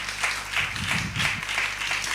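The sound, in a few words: audience clapping after a poetry performance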